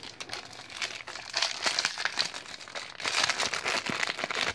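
Crinkly plastic packaging of goods bought in Japan being handled and torn open, a loud, continuous rustling and crackling close to the microphone, with no talking.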